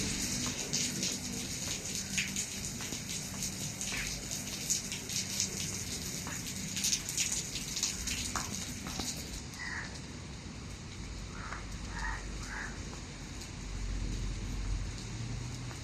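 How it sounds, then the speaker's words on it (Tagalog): Steady rain falls across an outdoor urban area in Ang Mo Kio, Singapore, a continuous dense hiss of drops pattering on surfaces, fairly close and unbroken throughout with no talking. "Maulan guys."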